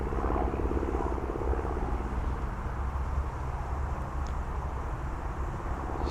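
A DJI Mini 4K drone hovering steadily outdoors, its constant buzzing whine filling the air evenly throughout with no breaks, a steady mid-level drone of rotors and no talking.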